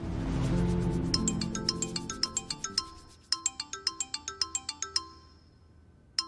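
A bright electronic phone ringtone plays a quick repeating melody of short chiming notes, loud and close, over a low hum at the start.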